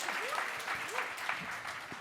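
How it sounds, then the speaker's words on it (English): Faint applause from a tech presentation audience, steady and soft throughout, with a few whooping voices rising through it. "With a round of applause"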